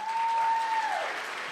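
An audience at a charity bash for a cancer center bursts into steady applause, a dense wash of clapping with a faint sustained tone running through it.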